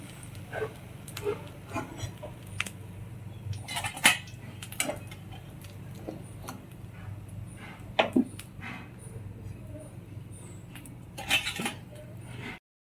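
Hyderabadi toast, fried bread browned on both sides, is lifted out onto a plate: sparse, faint clinks and taps of utensil against dish, spaced irregularly over a quiet kitchen background.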